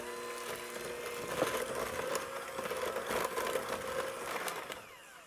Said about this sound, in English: Now mix this until the egg and the extracts have combined into the butter and sugar